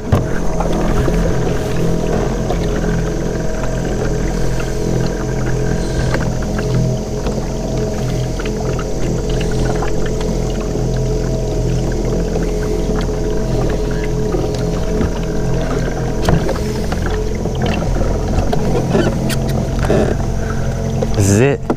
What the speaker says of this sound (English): Steer it with the rudder system or this motor. Let's make it go fast.